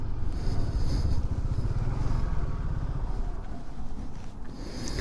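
Yamaha NMAX scooter engine running steadily while being parked, a continuous low rumble with rattly clatter, close and fairly loud, no voices.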